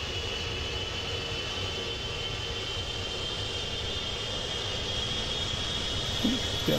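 An F-100 Super Sabre jet engine spooling up during startup in the DCS flight simulator, giving a steady, continuous roar and whine that holds level throughout.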